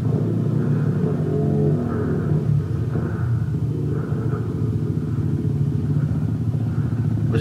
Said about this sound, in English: You gotta open the throttles, bro.